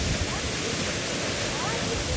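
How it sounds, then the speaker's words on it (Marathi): Close and loud, a waterfall in front of a cave near Pale village pours with a dense, continuous roar, steady and unbroken from start to finish. "पण हा धबधबा बघा केवढा आहे"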